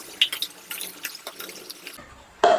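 Tap water poured from a container into a glass during a detergent pollution experiment, with close dripping, splashing sounds in short bursts and a final louder gush of liquid near the end.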